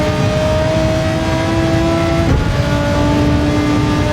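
Race car engines roar through a Gran Turismo 7 Manufacturers Cup race in a loud, sustained drone. Pitch lines hold flat, then jump sharply at a gear change midway.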